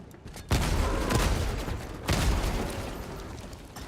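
An autocannon turret in Helldivers 2 fires heavy booming bursts, two big onsets roughly a second and a half apart, each trailing into rolling rumble and decaying echoes over battlefield noise.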